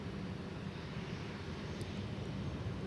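A jet airplane takes off from runway 17 at Minneapolis airport, a steady distant roar of engines under broadband rumble lasting the whole short stretch, with no talk.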